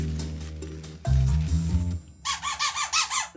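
After drying, a squeaky dog toy is squeezed repeatedly, giving a rapid series of about six loud, close, rubbery squeaks in a fast rhythm with no voices.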